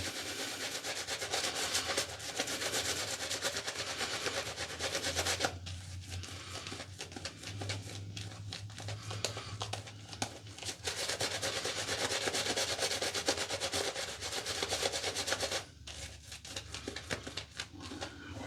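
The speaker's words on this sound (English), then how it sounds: "what I learned from Lather Yeti, the slapping kind of helps keep it in a low profile. instead of spreading and splaying and scrubbing" Shaving brush slapping and working BBS Shinigami soap into lather, a steady wet scratchy rubbing that runs close and continuous, with a couple of brief pauses and no talk.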